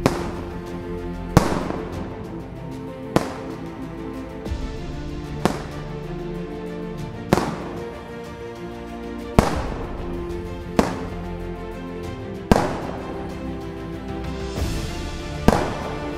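Ceremonial black powder salute cannons boom one after another at irregular intervals in Bamberg, about nine sharp reports ringing out over a steady background.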